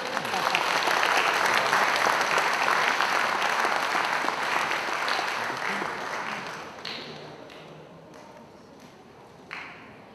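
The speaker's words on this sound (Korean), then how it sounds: "관객 여러분 자축 박수 한 번 해주세요" Audience applause fills the hall at the closing ceremony of the 28th Busan International Short Film Festival, a dense, loud wash of clapping that gradually thins and fades, with a few scattered late claps near the end.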